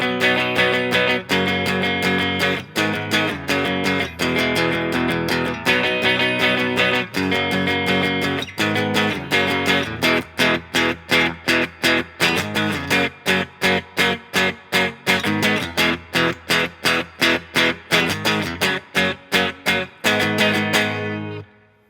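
Distorted electric guitar works through a chord progression, played twice through with driving strums and choppy muted stabs, loud and close, with no voices over it.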